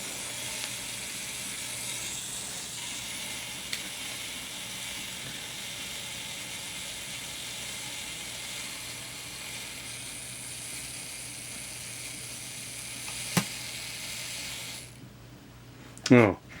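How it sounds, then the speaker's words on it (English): A camera's mechanical self-timer runs with a steady, faint whirring buzz for about fifteen seconds, then stops, followed by a brief louder click near the end. "It's a mechanical, or the self-timer, mechanical self-timer."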